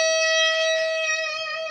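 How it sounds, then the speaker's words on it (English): A pure, bell-like guitar harmonic chimes and sustains smoothly with shimmering overtones, ringing alone for nearly two seconds. "but a harmonic note, you don't press it down; it's really smooth"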